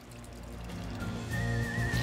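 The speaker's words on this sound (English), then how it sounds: "take our marinade that we made and just pour it over" Marinade poured over pounded meat for tacos al pastor, a close liquid glugging and splashing that grows louder, with a rising ringing tone as the pour continues.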